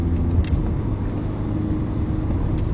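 A sports car engine, Aston Martin or Ferrari, drones steadily in a high gear at a constant speed, a continuous low rumble that stays close and even throughout with no noticeable revving.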